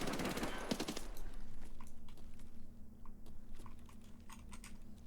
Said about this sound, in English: As you can see, the power of the PPSH coming out. It's just a bullet hose.